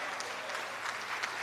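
An audience claps for deputy leader Marcella Althea Liburd at the 2021 St. Kitts-Nevis Labour Party constitutional conference: a brief, dense, steady burst of hand clapping filling the hall.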